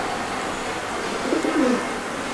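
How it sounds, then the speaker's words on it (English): Pigeons roosting inside a run-down aquarium coo softly twice, a brief low murmur rising just above a steady hiss of background noise. "There's pigeons living inside."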